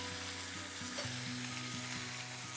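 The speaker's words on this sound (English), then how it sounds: "Sear. Let this go for about 1 minute on this side." A steak sears in a hot pan, cooked Portuguese house style with butter, giving a continuous bright sizzle and frying hiss close up, with a low rhythmic mechanical hum running underneath.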